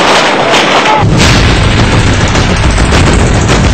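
Loud, dense gunfire and booming blasts fill archival footage of the Trisakti shooting, with students fired on from a flyover; the din is continuous and saturated, with no pauses across the stretch.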